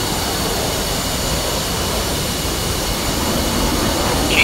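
The second jet engine of an F-5E in the DCS simulator roars steadily, a dense, loud whooshing drone with a thin high whine, constant from start to finish and free of speech.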